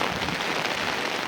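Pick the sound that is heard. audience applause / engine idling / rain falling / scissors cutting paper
rain falling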